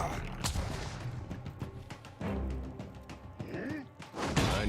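Gunshots in the fantasy RPG Pillars of Eternity II: Deadfire, a scattered series of sharp cracks and thuds mixed with game music and effects, with voices talking over the combat.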